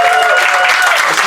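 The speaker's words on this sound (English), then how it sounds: "we should give a round of applause to the opening acts" Audience applause at a comedy show in Helsinki, a loud, dense, steady wash of clapping from a crowd that fills the whole short stretch without a break.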